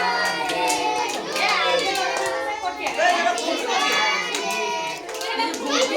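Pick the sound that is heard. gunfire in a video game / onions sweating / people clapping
people clapping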